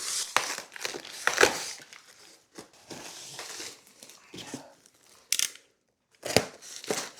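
Cutting open cardboard packaging around a Mastercraft Diamond Series work bench: irregular close scraping, tearing and crinkling bursts with short pauses, no talking.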